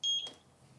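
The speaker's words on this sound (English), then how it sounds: "press the sync button for 2 seconds until you hear a beep" Eufy S220 SoloCam security camera emits a short, clear two-tone electronic sync beep at the start, then a quiet room with no talking.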